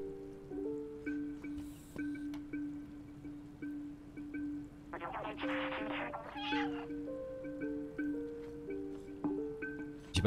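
A cat meows in the video game Stray, a short cluster of clear nearby meows set against soft, sustained in-game music tones.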